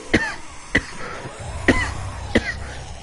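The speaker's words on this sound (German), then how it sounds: "Ich entschuldige mich schon für jeden Huster schon mal." Four sharp, separate coughs spaced about a second apart, close and fairly loud, coming from a man who is still somewhat ill.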